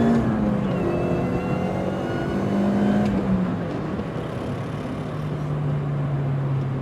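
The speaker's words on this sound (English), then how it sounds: "I'm just going to enjoy the way this supercharger whines" An R53 Mini Cooper S with a 17% supercharger pulley accelerates in second gear, its engine drone rising steadily with a thin supercharger whine riding above, heard from inside the cabin with no talking.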